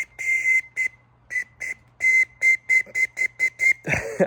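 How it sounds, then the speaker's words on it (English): Short bursts from a hand-carved wooden whistle, a long opening blast followed by a rapid run of brief toots, clear and close, ending in a muffled rustle. "that's a pretty awesome whistle we just made"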